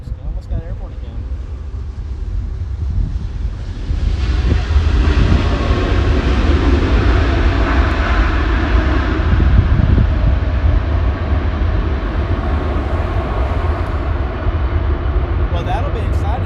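Hawaiian Airlines flight 10 landing at LAX, a loud sustained jet roar that rises sharply and holds, with voices talking over it.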